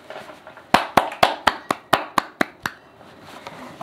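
A small audience thanking a technical producer gives about nine sharp, separate claps at a quick, even pace, fairly quiet and close, then stops, leaving low room noise.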